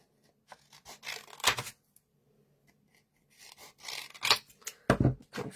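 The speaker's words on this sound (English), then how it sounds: "And just cut a load of strips" Scissors snip through card, cutting strips for a handmade explosion box card: close crisp cuts in two bursts separated by a silent pause, each ending in a sharper slicing snip.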